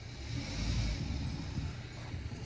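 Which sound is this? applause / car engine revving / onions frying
car engine revving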